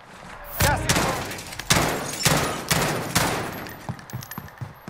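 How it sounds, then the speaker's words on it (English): A burst-fire gun in a video game fires several loud, sharp bursts in an even rhythm, close and punchy, and the shots stop near the end. "I shot at him, and then I realized this gun's a burst"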